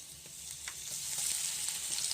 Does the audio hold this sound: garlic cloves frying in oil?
yes